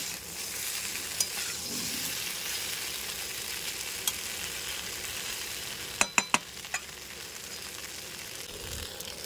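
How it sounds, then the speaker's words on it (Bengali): Small pieces of bhaja pithe fry with green chillies in a pan, making a continuous hissing sizzle, with a few sharp utensil clicks near the end and no voices. "এটা ভালোভাবে ভেজে নিতে হবে।"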